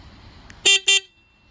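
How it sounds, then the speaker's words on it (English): Two loud electronic horn beeps from a Letric XP e-bike, close up, short and bright, sounding in quick succession with a brief gap between them, then silence. "This is actually the beeper, so you can actually hit the horn."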